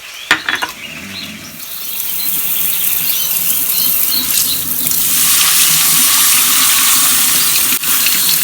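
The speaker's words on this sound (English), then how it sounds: "I'm going to rinse this rice to get the extra starch off of it." Cool tap water runs steadily over rice being rinsed in a sink to wash off starch, a loud continuous close-up hiss and splash that starts after a few light clinks and stays even throughout.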